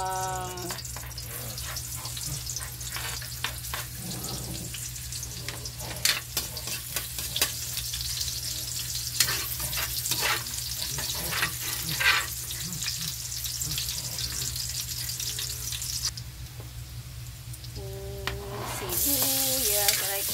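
Garlic and onion frying in hot, splattering oil with a continuous sizzle, punctuated by stirring clatters and sharp pops, while a faucet runs faintly and a voice speaks briefly near the end.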